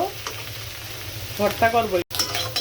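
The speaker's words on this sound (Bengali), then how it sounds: "কাঁচামরিচ, লাউর বিচি, লাউর খোসা, পেঁয়াজ আমি ভেজে নিচ্ছি তেলে" Green chilies, bottle gourd seeds, gourd peel and onion fry in oil with a steady close sizzle, stirred along the way, with a short tonal sound partway through.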